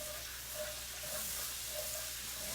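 Chicken thighs frying in a pan for a keto mushroom cream garlic dish give a soft, steady sizzling hiss, fairly quiet and continuous, with no talking over it.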